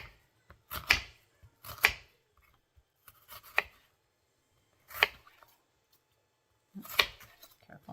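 A knife chops potatoes into small pieces for Christmas hashbrowns, giving a handful of sharp, separate cutting thuds spaced unevenly across a quiet kitchen.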